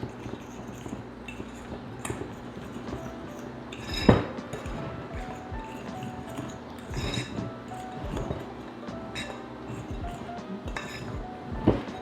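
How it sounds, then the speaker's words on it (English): A fork clinks and scrapes against a bowl while whisking ingredients together for a sourdough discard Easter recipe, giving steady kitchen clatter with a few sharper clinks. "I'm just gonna kind of whisk this together with a fork, just to kind of make sure all these ingredients get to know each other"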